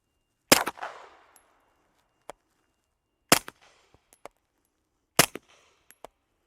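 A Mojave 9 rifle fires supersonic rounds into an earth berm: three sharp, loud reports spaced a few seconds apart, each with a short ringing decay, plus a few faint clicks between them.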